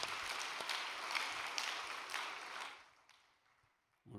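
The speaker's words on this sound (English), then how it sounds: "Why don't we give him a big round of applause of encouragement?" Audience applause of encouragement in a hall, a steady wash of clapping that fades out near the end, followed by a brief sound at the very close.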